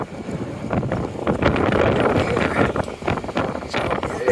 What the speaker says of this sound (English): So it is really windy out here today.